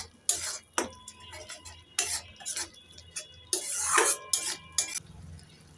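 Fish curry being stirred in a pan after a little sugar goes in, with scraping utensil strokes against the pan in short bursts and a light sizzle between them.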